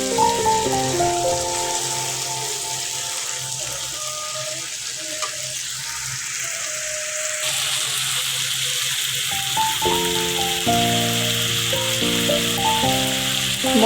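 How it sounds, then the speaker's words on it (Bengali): Desi chicken pieces mixed with spices sizzle steadily in a hot pan, a continuous frying hiss that runs the whole time beneath prominent melodic background music. "মশলার সাথে মাংসগুলো কতক্ষণ কষাই নিব।"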